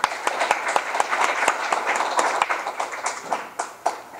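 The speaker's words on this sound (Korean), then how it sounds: "박수 한번 치겠습니다." An audience at a lecture applauds: a loose patter of many hands, with sharper single claps popping out at uneven intervals, fading slightly toward the end.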